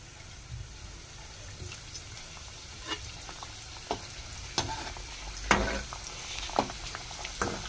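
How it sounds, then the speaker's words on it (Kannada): Coriander vada frying in hot oil, a steady soft sizzle with scattered crackles and pops, close and moderately quiet, no talking. "ಇವಾಗ ಎಣ್ಣೆ ಬಿಸಿ ಆಗೈತಿ, ಫ್ರೈ ಮಾಡ್ಕೊಂಬಿಡೋಣ."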